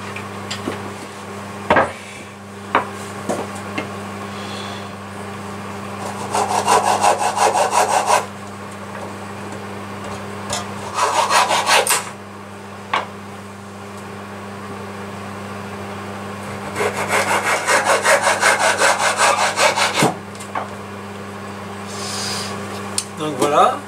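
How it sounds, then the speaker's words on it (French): A hand saw cuts through a turned wooden piece in several bursts of rhythmic back-and-forth strokes, separated by pauses, over a constant low mechanical hum. "Je vais le défaire et puis le couper à la scie"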